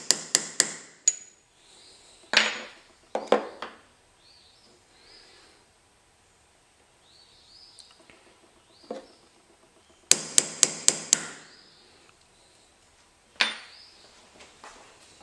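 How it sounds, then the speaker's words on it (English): Sharp metal-on-metal hammer blows drive V-tipped chisels into the slot of a seax ring, struck in quick clusters of three to five ringing hits with quiet gaps between, close and alone. "Using chisels with a progressively wider tip in the shape of a V, he opens up the slot in the leg of the ring"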